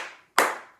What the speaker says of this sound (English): I'm going to be clapping as well.